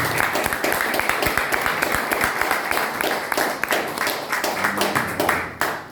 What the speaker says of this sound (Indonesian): Saya berikan tepuk tangan untuk Pastor Johnson.